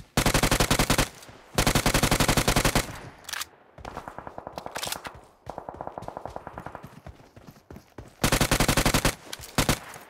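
Sustained automatic weapon fire in a shooter video game, loud close bursts of rapid shots repeating in long strings with short pauses between them.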